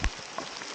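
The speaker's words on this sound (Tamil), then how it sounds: "செம மழை வருதுங்க." Heavy rain pouring outdoors near a hilltop fort, a steady broadband wash of drops with a brief louder patter at the start, fairly close and with no voices.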